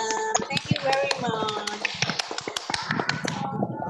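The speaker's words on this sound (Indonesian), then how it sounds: "let's give applause to yourself" Participants in an online class clap for themselves: a run of sharp, uneven claps and taps, loud and close, overlapping with voices and chatter.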